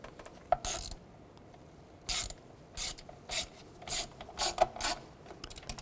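Screws being driven and snugged down on an intake manifold of a 2006-10 Volkswagen Jetta, heard as a series of short ratcheting bursts spaced irregularly, close and fairly clear against a quiet background.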